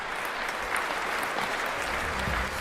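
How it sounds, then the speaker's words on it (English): A crowd at a tennis match in the London 2012 Olympic video game applauds with dense, steady clapping. It holds loud and close throughout. "The crowd go wild and they respond."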